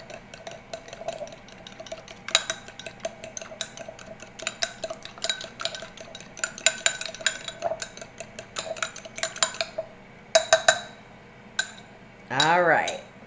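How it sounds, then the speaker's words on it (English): A fork whisks eggs in a bowl for breading deviled egg halves, giving quick repeated clinks and scraping taps against the dish in irregular bursts, close and fairly clear, with a brief louder clatter near the end. "just use a fork and just whisk that up until the egg is blended with"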